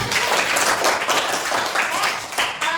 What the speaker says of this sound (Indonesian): Nah, oke, tepuk tangan dulu buat